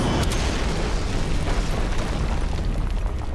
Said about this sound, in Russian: Пока что фейерверк очень даже хороший.